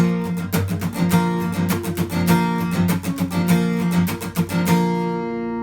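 An acoustic guitar is strummed in a brisk, steady rhythm, ringing chords alternating with sharp, percussive muted strums, ending on a chord left to ring.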